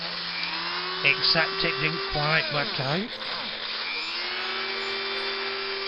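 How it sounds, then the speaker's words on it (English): A power drill runs steadily as it drills out the die-cast metal body of a Corgi Riley Pathfinder police model car, its whine rising and falling, while someone talks over it. "here we're drilling it out as per,"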